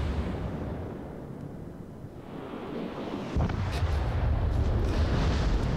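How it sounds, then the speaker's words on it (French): Naval gunfire in the World of Warships game, a destroyer-era battle with salvos of shells sent at a cruiser: a dense, rumbling low boom swells midway and keeps going as a heavy sustained roar with wind-like noise. "Donc là, le Neptune apparaît, je vise, j'envoie tous les obus."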